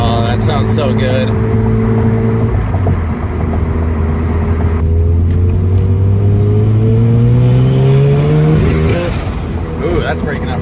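A Mazda FD RX7 rotary engine revs hard on a dyno, climbing in a long rising pull while the ignition breaks up and stutters, loud and close throughout with voices around it.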